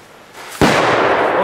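A Funkschlag 3 firecracker, a Polish banger, goes off with one sharp, loud bang after a short fizzing buildup, followed by a lingering wash of noise.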